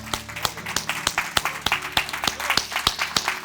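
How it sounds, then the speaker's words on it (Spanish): A church congregation claps together in a steady, rhythmic beat, each clap sharp and evenly spaced, with a fuller crowd wash underneath. "Denle otro fuerte aplauso a Dios."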